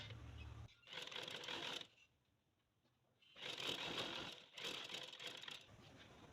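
A sewing machine stitches a trouser hem in quick rattling bursts, each run lasting about a second, with short pauses between them.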